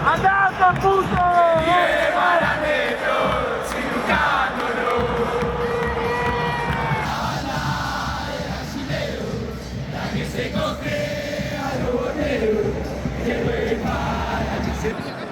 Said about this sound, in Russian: все эти люди в одном порыве скандируют, хлопают, радуются, расстраиваются